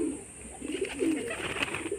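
Soft, throaty cooing from old-line Madras pigeons kept at home comes in several short phrases, growing busier toward the second half, heard up close with faint background hiss and no speech.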